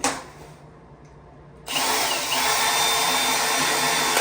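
A power drill bores out old sealant behind PVC cove moulding at a bathroom vanity, starting after a quiet moment and then whirring steadily and loudly until the end.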